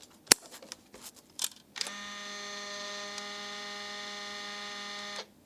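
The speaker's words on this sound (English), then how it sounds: "now for the shutter sound" Several sharp shutter clicks from a Fujifilm GFX-series medium-format camera ring out, then a steady motorized whine runs for a few seconds before cutting off abruptly.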